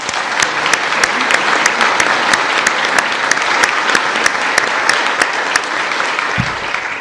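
A convention hall full of delegates, clergy and guests breaks into sustained, even applause, dense and loud throughout, with a few sharper claps standing out near the end.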